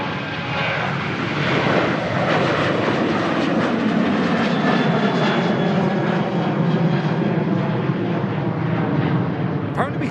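A Qatar Airways Boeing 777 passing at an airport, its engine roar steady and broad for the whole stretch, fairly loud, with people talking over it.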